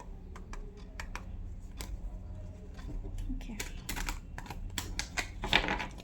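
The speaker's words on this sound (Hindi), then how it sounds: "and the last shuffle." Tarot cards are shuffled by hand in a rapid run of crisp riffles and flicks, close and moderately loud, with someone speaking over them.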